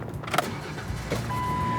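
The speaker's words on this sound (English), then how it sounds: "When starting your vehicle, there's no need to depress the accelerator to get the engine going." A 1995 Ford Explorer's engine cranks and catches, with a short burst of starter noise settling into a steady low idle hum, heard up close with no talking.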